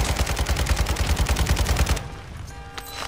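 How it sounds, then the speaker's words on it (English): Video game mortar strike: a rapid, loud, rhythmic string of close blasts pounds for two seconds, then cuts off and leaves a quieter tail with a few faint distant pops. "Enemy mortar strike inbound."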